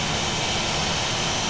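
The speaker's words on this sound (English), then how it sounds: "That engine is now running." Airbus A320 jet engine running at idle, a dense steady roar with no change in pitch or level over a brief moment, loud and close, with no voices.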